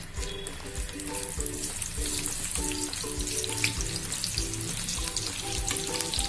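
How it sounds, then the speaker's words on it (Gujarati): Onions sizzling steadily in the same hot oil just used to fry potato sev, a continuous frying hiss with light scraping and clinking under background music, no talking. "હવે આપણે જેમાં આપણે બટેકા સેવ ફ્રાય કર્યા હતા તેમાં જ આપણે ડુંગળી નાખી દેશું"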